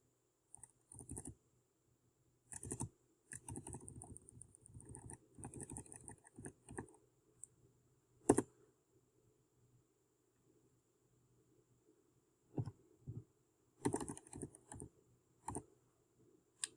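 Fingers typing on a computer keyboard produce close, quiet bursts of rapid key clicks separated by pauses, with a sharper tap standing out midway.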